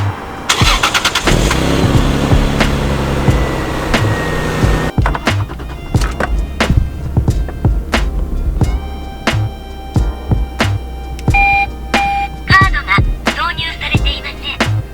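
A right-hand-drive Toyota Altezza Gita car cranks and starts, then settles into a loud, close idle with a few sharp revs, heard alone without talk.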